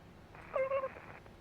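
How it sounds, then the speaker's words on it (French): A cat gives a short, clear meow with a rising then steady tone, heard alone against a quiet background. "des bruits de chat sur la team, pas mal"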